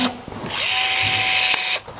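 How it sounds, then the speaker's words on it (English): A power rivet gun sets a rivet in a van body panel during a campervan conversion, giving one close, loud whirring burst of about a second and a half before cutting off. "place our gun on the spine of the rivet, holding down firmly"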